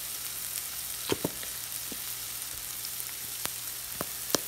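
Onions and garlic frying in a pan give a steady, quiet sizzle, with a few sharper pops and crackles scattered through it. No one speaks.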